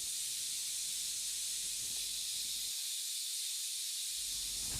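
A pressure cooker on a home stove releases a steady, continuous hiss of steam, even and unbroken throughout, with faint low household sounds underneath.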